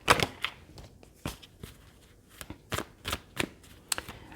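Tarot cards are riffled and shuffled, then snapped down one by one in a quiet room, giving sharp, close, irregular bursts of card flicks separated by short pauses, with no voices.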